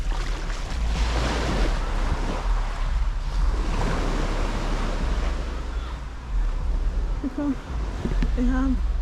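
Ocean waves wash continuously onto a beach in Grenada, a steady broad rush of surf with wind buffeting the microphone, and a few faint voices near the end.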